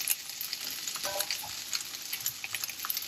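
Fresh washed mint leaves being dry-roasted in a pan give a close, steady crackling sizzle with light stirring rustles throughout, no voices.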